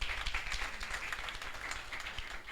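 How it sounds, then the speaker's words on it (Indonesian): Applause from a church congregation during a Sunday worship service, a scattered, moderate clapping that runs steadily through the moment with a soft low rumble beneath. "Tepuk tangan dong."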